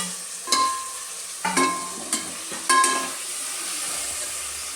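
Tomatoes sizzle in a pan while a spoon stirs them, giving four or five sharp scraping clatters over a steady soft frying hiss, close by.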